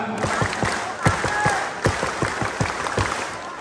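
Crowd at an Anies campaign rally in Banten performs a scout clap (tepuk pramuka), a loud rhythmic pattern of sharp synchronized hand claps repeating in groups over a continuous crowd murmur.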